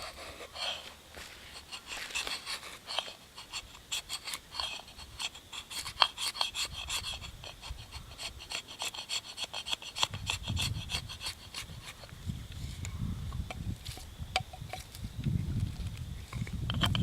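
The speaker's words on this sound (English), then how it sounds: "I'm just going to kind of see how hard it is to cut this" A bamboo stalk is cut by hand with quiet, rhythmic rasping strokes of a blade on wood, close by, with deeper scraping thuds toward the end.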